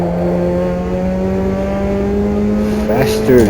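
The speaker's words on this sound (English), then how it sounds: "Faster little engine, faster." A Ford Puma's small engine races hard around the Nordschleife, a loud steady in-car drone holding a constant pitch, rising briefly near the end.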